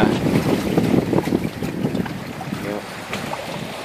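Steady wind roars across the microphone aboard a sailboat passing through the Blasket Sound off the Kerry coast, loud and continuous with water wash beneath and no clear talk.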